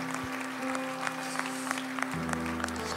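Church congregation applauding a guest at the close of a live Sunday morning service; a steady wash of clapping with a sustained organ-like tone underneath, moderately loud throughout.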